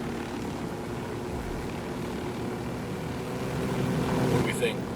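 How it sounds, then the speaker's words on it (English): A helicopter in the Ghost Recon Wildlands video game flies with a steady droning engine and rotor hum throughout, swelling slightly toward the end. "I definitely recommend using the helicopter"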